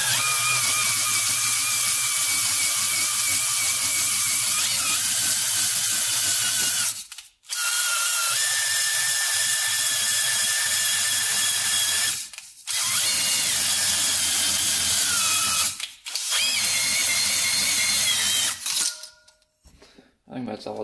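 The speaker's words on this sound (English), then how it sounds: "Just gonna quick hone it so that we can measure the ring gap after with the new rings" A drill-driven hone spins inside a Honda 400ex engine cylinder, a loud high-pitched whirring grind that runs in several long passes broken by brief pauses, with a person speaking between bursts.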